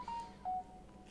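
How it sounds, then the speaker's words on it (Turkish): A phone in the ServiceIT electronics repair game gives two short, faint electronic tones in a row over a steady low hum, with nobody talking. "Telefon yine susmuyor."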